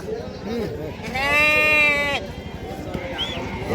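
At the Hubballi Saturday sheep and goat market, a sheep gives a loud, drawn-out bleat over a bustling crowd, with people talking nearby and a fainter bleat following.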